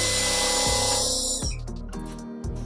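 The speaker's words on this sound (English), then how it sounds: "we can drill that final hole through" A power drill whirs at high speed, briefly boring into wood, then winds down with a few short stop-start bursts.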